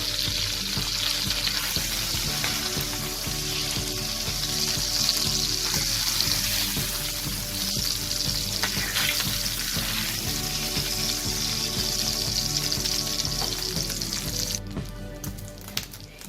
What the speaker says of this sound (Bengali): এই পিঠটাকে আমি 1 থেকে 2 মিনিট ভেজে নিয়ে তুলে নেব